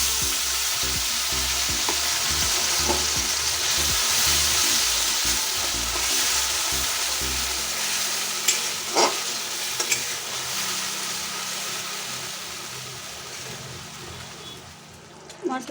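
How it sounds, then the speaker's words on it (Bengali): Fried onion and potato cook in a pan with a spice paste, a close, steady sizzle broken by stirring scrapes, with a low rhythmic hum early on that drops away partway through. "এখানে এখন পেঁয়াজটা আলুটা দুটোই ভাজা হয়ে গেছে আর এই মশলাটাও পেস্ট বানিয়ে নিয়েছি এর মধ্যে দিয়ে দেবো"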